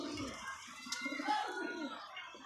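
A pet pigeon coos softly in a few low, rolling phrases close by, faint and brief.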